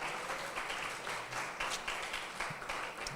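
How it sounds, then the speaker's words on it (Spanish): A church congregation applauds together, a steady dense wash of clapping at moderate level with faint voices mixed in throughout. "Un aplauso al Señor"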